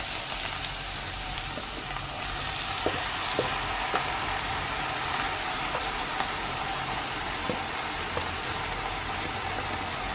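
Onion, garlic and tomatoes fry in a pan, giving a dense, continuous sizzle with scattered small pops and crackles, steady in loudness and close by, with no talk over it.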